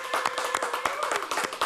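Audience applause at a cooking demonstration, a brief burst of steady clapping from several people, moderately close and even in loudness.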